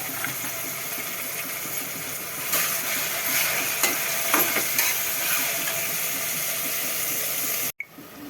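Mutton cooking in a pan for curry, a steady close sizzle with intermittent stirring scrapes, then a brief cut near the end before the frying resumes.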